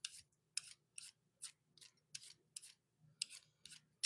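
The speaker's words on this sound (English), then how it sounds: "we're going to peel off the skin because this is not one where you can keep the skin on" Russet potatoes being peeled, a quick series of short scraping strokes in steady rhythm, close and quiet with no talking.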